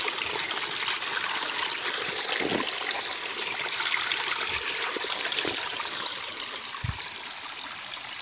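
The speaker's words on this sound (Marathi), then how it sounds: "झरायचं पाणी" Spring water runs steadily past a fish trap in a stream, a continuous rushing, gurgling flow heard close by, with a few soft low knocks.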